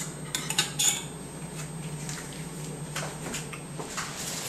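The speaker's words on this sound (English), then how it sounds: "Mix that up" A utensil stirs shrimp in a marinade, clinking and scraping against the bowl in a quick burst of clatter early on, then softer intermittent scrapes over a steady low hum, close and fairly quiet with no talking.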